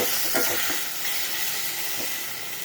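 Tomatoes with salt and turmeric are stirred in a hot pan, giving a steady close sizzle and hiss with a few soft scraping strokes.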